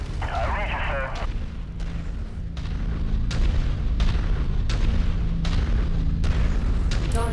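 Heavy weapons fire and explosions rumble continuously in a mech combat video game, with repeated booming bursts over a dense low roar and a short radio-style voice early on.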